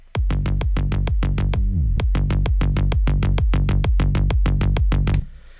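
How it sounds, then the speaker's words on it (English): Punchy kick drum hits pound in a steady four-on-the-floor rhythm, locked with a deep pulsing bass line, looping for several bars before cutting off. "So when you combine it now, the kick and the bass line, it will sound like this."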